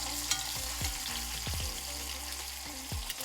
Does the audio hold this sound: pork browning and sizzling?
yes